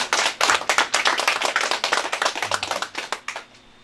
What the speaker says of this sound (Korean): 감사의 그 의미로 힘차게 박수 한번 올려드리겠습니다.